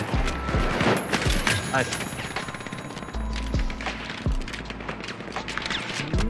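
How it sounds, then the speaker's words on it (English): Rapid, loud video game gunfire crackles in bursts with occasional heavier booms during a battle royale finals match, under excited player chatter. "Why are you shooting over here?"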